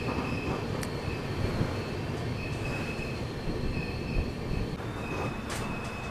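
Somnath Express train with LHB coaches at Than railway station, platform 2: loud continuous rumble of rolling wagons with steady wheel noise and faint high squealing tones, close by, no talk.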